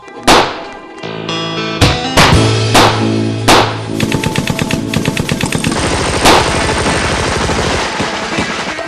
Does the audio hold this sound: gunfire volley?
yes